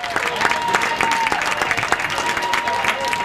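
Visiting fans cheer and clap in the stands of Bison Stadium at a Bethany vs. W&J college football game, a lively crowd roar with scattered claps at mid distance, under an announcer's voice.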